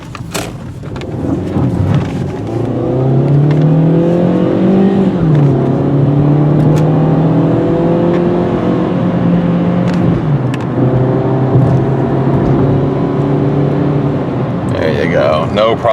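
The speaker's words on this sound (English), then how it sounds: "No problem getting up to highway speeds, as you can see." A 2003 VW Jetta sedan accelerating from a standstill up to highway speed, its engine note rising steadily and loud throughout, close to the microphone, with someone talking over it.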